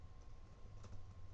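Quiet keystrokes on a computer keyboard, a soft run of light clicks at an even pace, heard alone and close with no talking.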